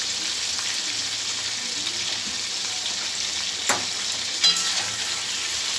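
Giant freshwater prawns fry in hot oil with a constant, even sizzle and crackle, interrupted by a couple of brief clinks from a utensil.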